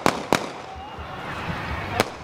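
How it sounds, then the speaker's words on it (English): Gunshots ring out at a high school homecoming football game: three sharp, loud cracks, two in quick succession and one more after a pause, over a dull outdoor background. "gunfire erupted"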